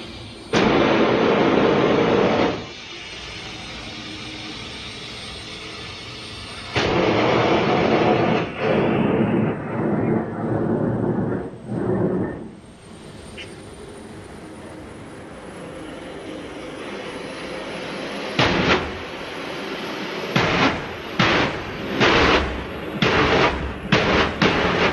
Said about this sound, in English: Still makes about as much noise as a regular jet car, doesn't it?